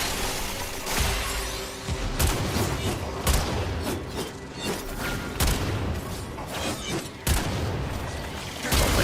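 Rapid bursts of weapon fire in the game Warframe crackle and boom continuously, loud and dense, with repeated sharp blasts layered over a constant roar of combat.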